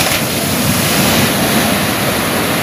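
Waves breaking along the shore, a loud continuous wash of surf and rushing water close by with wind buffeting the microphone.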